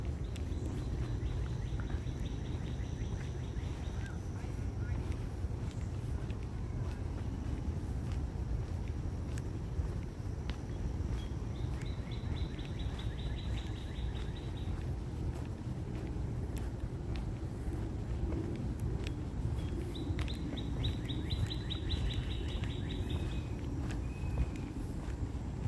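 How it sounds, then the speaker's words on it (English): Small birds on a New York City street give short bursts of high chirping, faint and intermittent over a steady wash of traffic and footsteps. "Here's some birds."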